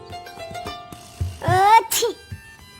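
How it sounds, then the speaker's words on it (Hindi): A short cartoon sneeze, a voiced rising burst followed by a sharp exhale, stands out over a light background score in a children's princess cartoon. "अरे, यह किसके छींकने की आवाज है?"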